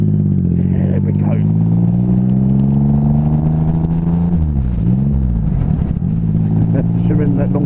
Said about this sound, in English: So second gear, open up. It just literally goes from 20 to 60 in the blink of an eye.